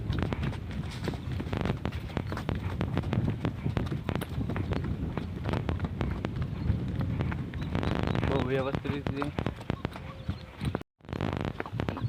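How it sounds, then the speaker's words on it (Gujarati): A mare's hooves clop along at a steady, strong walking pace beneath someone talking, with some wind rumble on the microphone. "ચાલ પણ મજબૂત છે ઘોડીની"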